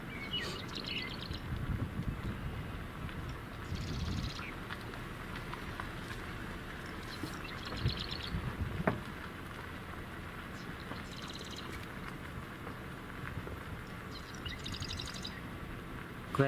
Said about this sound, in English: I can also hear the robins singing.